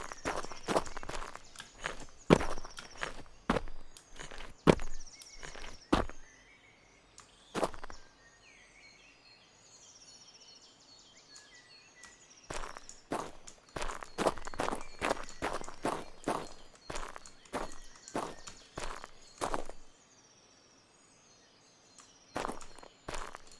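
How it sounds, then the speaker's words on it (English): Footsteps in the Road to Vostok video game development build thud in quick, irregular runs over a quiet ambient bed, pausing briefly and resuming, close and crisp throughout. "Can you hear the kind of like ambient sounds and footsteps that are coming in this dev build?"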